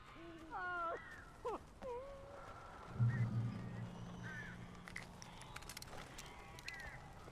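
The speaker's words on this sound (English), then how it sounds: "These birds are weird." Crows caw in the video game Alan Wake, with harsh, rising calls clustered early and a few scattered later. The calls sit over a murky ambient background with a brief low rumble in the middle.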